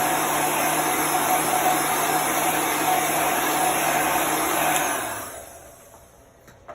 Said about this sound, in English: I'm gonna dry that with the heat gun real quick.